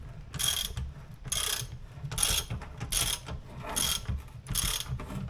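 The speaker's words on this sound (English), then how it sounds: "you just throw on your 1/2 inch and start cranking, and she starts lifting." Ratchet wrench cranking a Harbor Freight 450 lb scissor-style transmission jack, six bursts of rapid clicking at an even pace over a low mechanical rumble, close and fairly loud with no talk.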